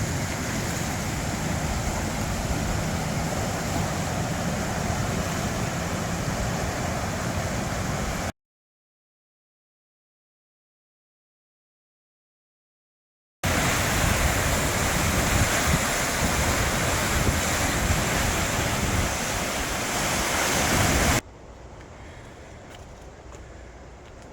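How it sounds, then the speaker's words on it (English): High spring water rushing through the dam at Lovesick on the Trent Severn Waterway, a loud, steady roar close by, broken by a stretch of silence and ending with a quieter, more distant rush. "the high water this year is just tearing through here"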